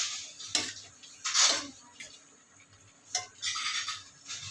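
A spoon clinks and scrapes against a pot while pakbet with taro is stirred, several bright metallic bursts spaced irregularly over quiet background.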